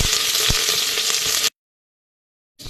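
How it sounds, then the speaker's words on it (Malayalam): Curry leaves and slit green chillies, added after mustard seeds pop, sizzle loudly in hot oil with a dense crackling hiss. The hiss cuts off abruptly to silence, then the sizzling briefly returns. "കടുക് പൊട്ടിക്കഴിയുമ്പോൾ കുറച്ച് കറിവേപ്പില ഇട്ട് 2 പച്ചമുളക് നെടുകെ കീറിയത് അത് ഇട്ട് കൊടുക്കാം"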